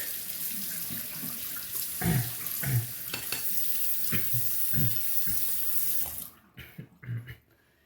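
Tap water runs steadily as a honing stone is rinsed of metal shavings at a sink, with splashing bursts as the stone moves under the stream, then the flow cuts off into a few drips and clatters.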